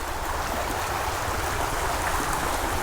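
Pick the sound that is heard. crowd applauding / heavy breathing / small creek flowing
small creek flowing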